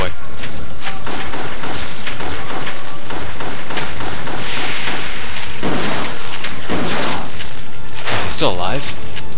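Loud, dense gunfire from a pistol and a shotgun in the Resident Evil Darkside Chronicles game, with rapid shots and heavy booms piling up continuously, and voices talking over the barrage.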